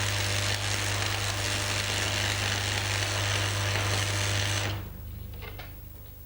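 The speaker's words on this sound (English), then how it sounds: "When the current is too high, it'll be easy to strike the arc and keep it going, but the weld bead will be flat and spattery." Electric arc welding run at too high a current gives a loud, steady crackling buzz for nearly five seconds, then cuts off abruptly, leaving a much quieter background.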